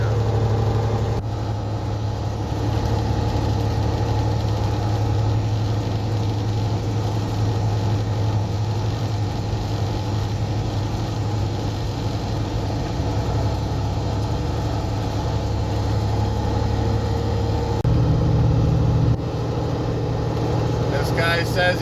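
Truck engine idling on an icy hill during a severe snow storm, a steady low rumble running throughout, with someone talking over it and a brief shift in tone near the end.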